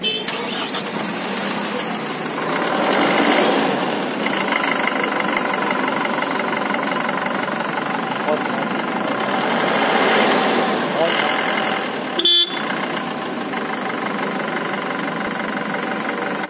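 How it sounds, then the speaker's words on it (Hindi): The heavy diesel engine of a Tata Starbus 32-seater bus runs steadily, its low rumble swelling and easing a couple of times before a brief click near the end. "चलिए अब इस गाड़ी का इंजन साउंड सुनते हैं"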